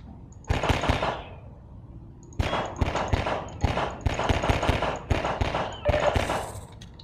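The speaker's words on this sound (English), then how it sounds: "Let's take pistol shots." Pistol gunfire in the video game Half-Life 2: several loud, close bursts of rapid shots arrive in clusters across the stretch, with short pauses between volleys.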